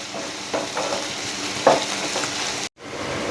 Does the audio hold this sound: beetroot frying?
yes